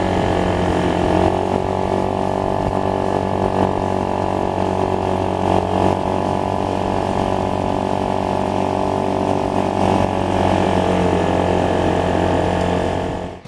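Honda Spacy scooter's small engine drones steadily while riding at high revs, a loud continuous buzzing hum with even tone throughout and no speech.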